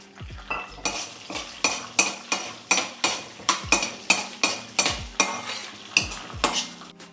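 Small garlic cloves frying in a pan for a coconut-milk fenugreek curry, a steady run of sharp metallic spatula knocks and scrapes against the pan roughly every half second over a light sizzle.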